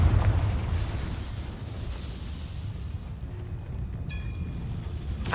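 Confringo fire spell explosion in Hogwarts Legacy inside a goblin mine: a loud deep boom at the start gives way to a sustained roaring rumble, with a brief bright crackle near the end, no voices.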